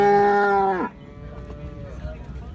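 A milking buffalo at a buffalo market in Shahdadpur gives one loud, close, drawn-out moo lasting nearly a second, followed by a fainter low tonal murmur and background market noise.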